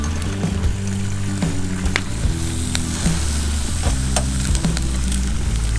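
Onion rings sizzle and crackle steadily in hot oil at a campsite, a dense close frying hiss with scattered pops and faint clinks running through.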